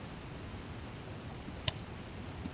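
A single crisp computer mouse click, faint and close, with a softer second click just after against quiet background hiss.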